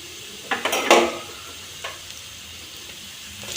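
Onions fry in a pan for an eggplant bharta, a short burst of sizzling and stirring scrapes near the start, then quieter pan noise.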